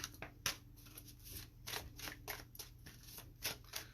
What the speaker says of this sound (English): I'm shuffling on camera and using different decks.